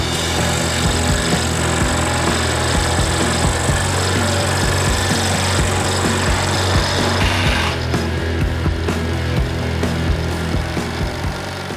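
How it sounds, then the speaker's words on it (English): A scroll saw cuts PVC pipe with a loud, steady, rapid buzzing and rattling drone, close up, that continues throughout without pause, with no talking. "I use a scroll saw because I have one and overkill is underrated"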